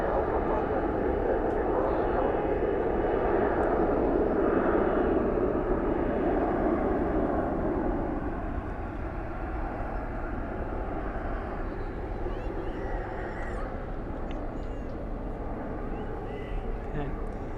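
A departing airliner at DFW airport at night gives off a broad, distant jet roar that swells and then gradually fades, with a voice speaking over it.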